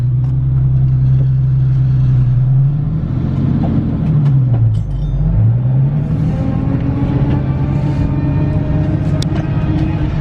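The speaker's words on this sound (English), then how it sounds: "Gotta love the sound of this diff." Differential whine from a Nissan Z being driven, a loud steady engine and drivetrain drone with tonal pitch that dips and rises as the car slows and picks up speed again, with no talking.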